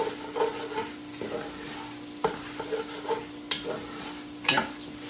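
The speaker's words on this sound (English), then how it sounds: "We're going to add our red wine and we're going to stir it in." Red wine is stirred into a pot of jambalaya: a steady sizzle runs under repeated spoon scrapes and clacks against the pot, close by with no talking.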